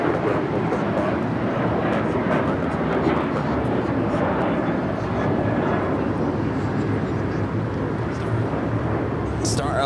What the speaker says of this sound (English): Star Alliance livery on that United 737-800 heading to Vancouver, Canada